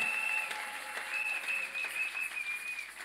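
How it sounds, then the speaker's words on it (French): A church congregation applauds to acclaim the King of Kings during a sermon on breaking poverty, a steady wash of clapping with a sustained high tone ringing over it. "Est-ce que quelqu'un peut acclamer le roi des rois?"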